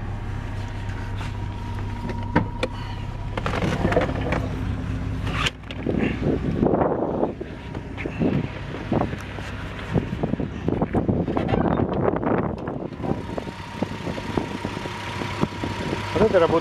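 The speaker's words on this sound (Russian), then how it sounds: "Это работа двигателя." A warmed-up BMW engine with about 401,000 km on it, running on Lukoil oil, holds a steady low idle hum while someone talks over it close to the microphone.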